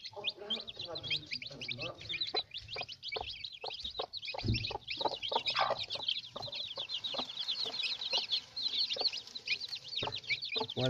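Chickens cluck and squawk close by in a busy, overlapping stream of short calls, with thumps and rustling underneath and a voice now and then.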